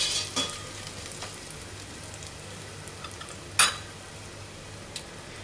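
Crushed garlic cooks in a pot for a fish and black-eyed bean soup, giving a soft, steady sizzle marked by a few sharp clinks of a utensil against the pot.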